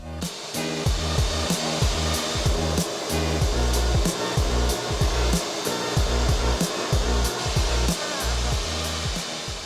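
A DIY vapor blaster fed by an air compressor strips paint with a loud, steady hissing blast, pulsing in rapid regular bursts throughout, close and alone.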